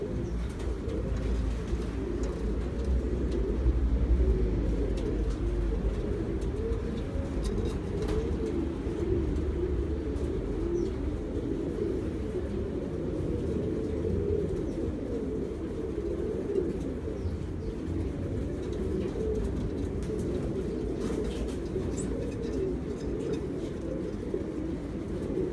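Homing pigeons cooing in a loft, a dense, steady low murmur of many overlapping coos that runs the whole time with no talk, a faint chirp now and then over the flock.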